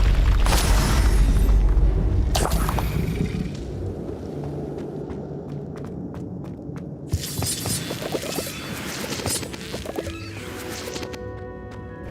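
Bombarda blasting-spell explosions in the Hogwarts Legacy video game: a heavy, loud boom opens, then further sharp blasts, crashes and debris clatter follow amid rumbling combat noise.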